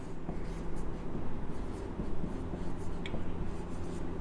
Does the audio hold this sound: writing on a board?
yes